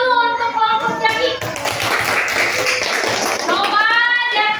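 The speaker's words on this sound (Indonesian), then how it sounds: "tepuk tangan dulu untuk kelompok Jaki." Elementary schoolchildren in a classroom clap for a classroom group, a burst of quick hand claps between stretches of an adult speaking and children's voices.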